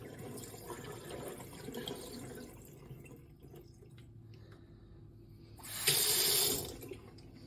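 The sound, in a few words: dirty water poured out of tank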